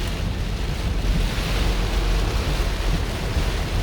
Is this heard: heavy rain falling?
yes